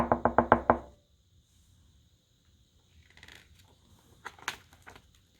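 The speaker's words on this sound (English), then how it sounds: "Then a tap, tap, tapping on the front door." Five quick, sharp knocks on a front door, loud and close together, followed by a faint stretch of quiet shuffling and small taps.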